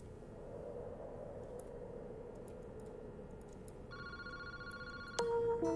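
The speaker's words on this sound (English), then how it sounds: "that phone is ringing" A phone rings in the Paranormasight video game, an electronic tone that starts partway through over a steady low background hum and grows louder toward the end.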